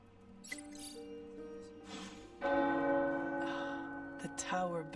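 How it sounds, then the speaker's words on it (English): Tower bells in the video game Midnight Suns ring out with sustained, layered tones that swell louder halfway through, mixed with a musical score and a few brief voice-like sounds. "The tower bells are ringing."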